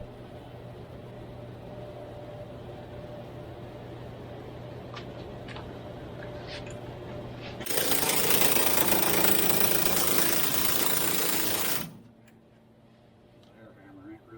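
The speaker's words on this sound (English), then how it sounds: "Air hammer ain't really worth the crap." An air hammer pounds on a ball joint of a 1965 El Camino during a control arm swap: a loud, harsh, continuous rattling burst of about four seconds, near and alone, after a steady background hum, then cuts off.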